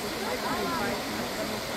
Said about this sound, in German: Das ist ja auch so ein Foto-Highlight, wie der Wasserfall sich hier ergießt.